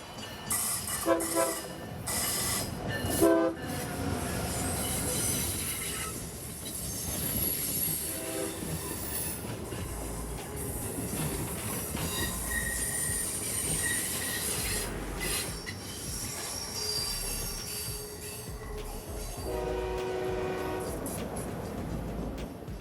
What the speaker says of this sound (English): northbound train 2164 meets southbound train 2173